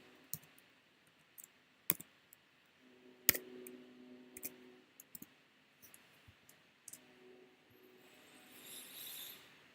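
A computer mouse and keyboard give quiet, scattered clicks and short taps at irregular intervals, with a faint hum underneath.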